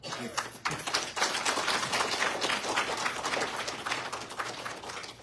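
An audience at a DXN gathering breaks into strong applause to welcome one another, dense clapping sustained for several seconds at close range with a voice audible underneath.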